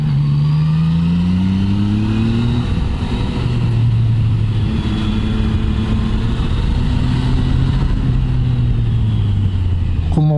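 A 2019 Yamaha MT-09 motorcycle pulling hard, its engine tone sweeping upward, dipping at gear shifts, then climbing again in a continuous close roar.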